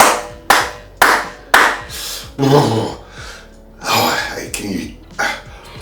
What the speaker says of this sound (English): we're going to do the clap test